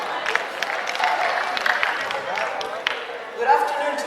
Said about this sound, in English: A huge round of applause to all the communicators.